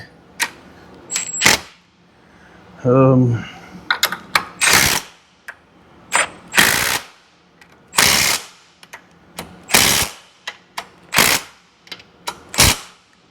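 An impact wrench tightens shock absorber bolts during suspension work on a vehicle frame, firing a series of short, loud, rattling bursts at uneven intervals with brief quiet gaps between them.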